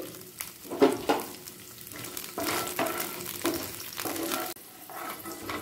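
Peanuts frying in oil give a soft, steady sizzle, with a few louder crackles and stirring scrapes rising and fading throughout.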